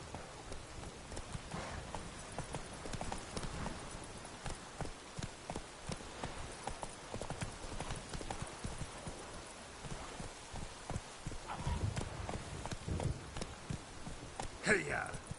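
Roach, a horse in The Witcher 3 video game, trots with steady clip-clop hoofbeats through pouring rain, under continuous rainfall and scattered speech.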